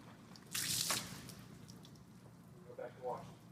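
A wet sloshing splash as a car wash mitt is plunged into a soap bucket, followed by a few quieter drips and squishes.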